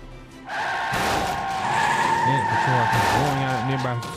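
A car in the 428 Shibuya Scramble video game accelerates hard, its tires squealing loudly under a rising engine tone that holds close and steady for several seconds.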